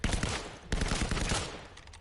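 Gunfire in a 2v2 competitive shooter match, a quick burst of repeated shots at low level over about two seconds.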